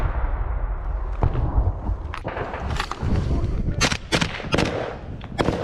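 Combat in a war zone with artillery fire, loud booming blasts and sharp cracks of gunfire going off in irregular bursts over a rumbling background, some close and some more distant.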